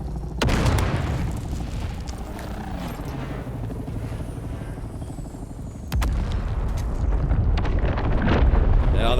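Grenade blasts in the video game Dune: Awakening land as sharp booms, one early and another partway through, over a steady rumbling din of combat and engine noise.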